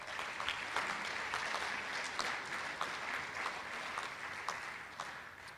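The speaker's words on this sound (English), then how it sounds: "So give them a round of applause." Audience applause at a winter sports awards ceremony, a steady, sustained wash of many hands clapping that holds evenly for several seconds without talk.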